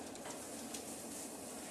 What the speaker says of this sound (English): we should hear a little bit of a sizzle as we put them down